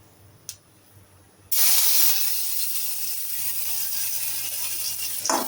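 Chopped garlic and ginger tipped from a spoon into hot oil for egg bhurji set off a sudden loud hiss after a quiet start. The sizzle stays strong and steady to the end.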